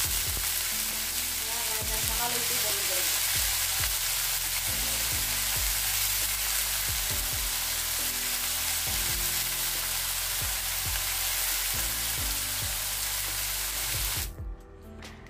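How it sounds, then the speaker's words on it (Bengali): Beans and potatoes fry in an oiled pan, a dense, steady sizzle with frequent clicking stirs throughout that stops abruptly near the end. "এখানে করছি বিনস আর আলু ভাজা"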